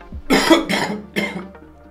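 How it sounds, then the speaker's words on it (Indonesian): Three heavy, wet coughs in quick succession, close and loud, with a rattling, phlegmy quality. "batuk ini menghasilkan lendir atau dahak"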